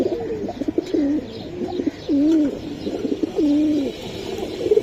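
Giribaz pigeons cooing up close, several rolling coos repeating in a loose rhythm over a light background hum.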